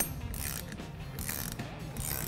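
Wrench ratcheting a nut tight on a Jeep Wrangler steering stabilizer stud while the stud is held with pliers, giving quiet, close metallic clicks in short bursts.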